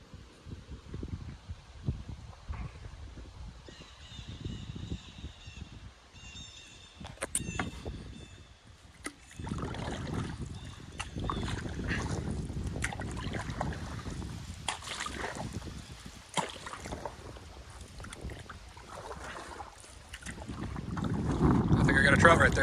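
A canoe glides down a breezy river with wind buffeting the microphone, soft water swishes and paddle strokes dipping close by, and a few scattered knocks against the hull.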